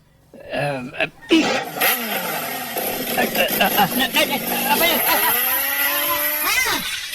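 A motorcycle engine revs and accelerates loudly close by, climbing and falling in pitch in repeated surges, with voices talking over it in a comedy skit.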